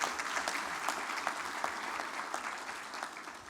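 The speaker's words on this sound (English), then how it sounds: "Shall we give him another round of applause" A convention hall audience applauds during the opening ceremony of an aviation stakeholders convention, a steady, even wash of many hands clapping, fairly distant and soft, with no speech over it.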